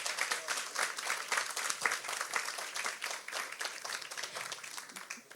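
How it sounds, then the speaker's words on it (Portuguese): Steady applause from a talk audience, dense overlapping claps continuing evenly for several seconds without a break. "que é o senhor César Tomé, que é quem eu peço palmas"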